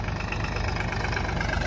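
A Mahindra 265 DI tractor with a three-cylinder diesel engine and inline pump idles steadily nearby, a low, even rhythmic chug running throughout without talk.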